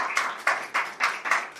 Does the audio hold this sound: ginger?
no